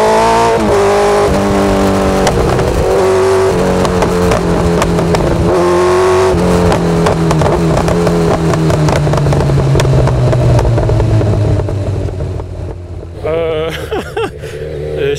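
A Kawasaki Z900 motorcycle with a loud full aftermarket exhaust revs hard nearby, its engine note climbing and falling through repeated throttle blips with crackling pops, a voice speaking over it near the end.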